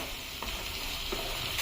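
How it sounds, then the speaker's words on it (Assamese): Drumstick (data) stems with mustard sizzling in a pan, a soft continuous frying hiss with a couple of light stirring clinks. "এইখিনি কিছু সময় ভাজিম"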